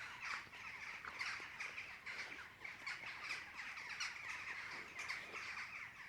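A large flock of jackdaws and rooks calls overhead while coming in to land, overlapping caws and sharp chacks repeating in a constant busy chatter, fairly close and steady throughout.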